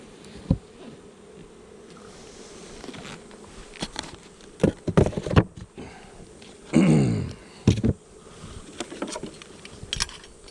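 Honeybees buzz around an open hive during an inspection, their low drone sitting under louder knocks, scrapes and a swooping close buzz as the frames are handled, with no talk.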